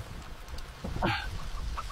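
A neighbor's chicken gives a brief, close cluck over a steady background of rain.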